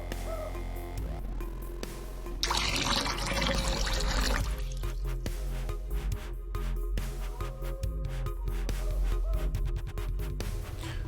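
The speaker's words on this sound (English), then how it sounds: "So fill up my water skin out of the well." Water poured from a well into a water skin in the online game Wurm Online, a steady pouring and trickling wash that starts after a second and runs continuously to the end over a busy background with music-like tones.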